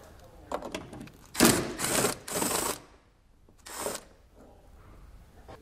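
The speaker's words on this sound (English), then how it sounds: "So what we're gonna do is grab our 8mm socket and remove that bolt." A ratchet with an 8mm socket works a bolt loose on a 2020 BMW X5, giving a few close bursts of quick clicking separated by short pauses.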